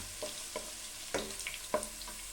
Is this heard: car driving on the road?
no